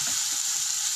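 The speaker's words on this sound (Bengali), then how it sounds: "দিয়ে আমি ঝিঙ্গেটাকে ভালো করে কষিয়ে নেব এই মশলার সাথে" Ridge gourd pieces fry with spices and coriander in a hot pan, making a loud, steady, close hiss of sizzling oil with no talking.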